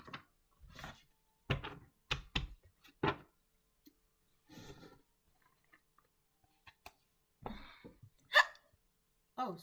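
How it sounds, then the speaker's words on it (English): Several sharp, abrupt hiccups from a person, coming in irregular bursts and separated by quiet gaps, close to the microphone with no talking in between. "Oh, excuse me, I have the hiccups."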